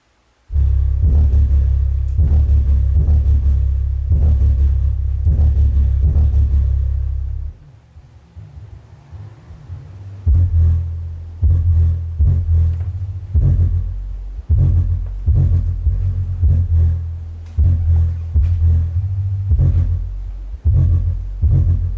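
Deep, booming bass from home theater speaker ports fills a room, loud and sustained with a throbbing low-end hum; it drops out for a couple of seconds midway, then returns in pulsing bursts.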